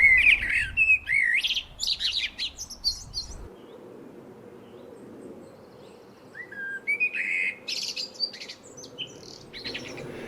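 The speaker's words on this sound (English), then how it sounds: "The blackbird's song is sublime." A blackbird sings fluted, whistling phrases under a grey early-summer sky in Cornwall, clear and fairly close at first, then quieter after a pause before more song returns near the end, with no voices.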